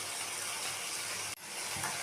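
Water pours into a pan of fried onion and spice paste, a steady close hiss and gush that breaks off briefly and then resumes.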